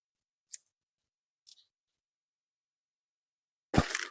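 Onion roughly cut with a knife for a beef stir fry: two brief, crisp cuts spaced a second apart, then a louder, fuller chop near the end, with quiet between.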